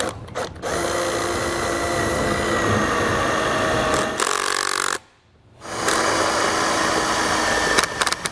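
A power driver sinks hex head self-tapping screws into an RV slide-out awning bracket, giving loud sustained whirring runs that stop briefly near the middle before resuming, with a few short clicks and handling noises between them.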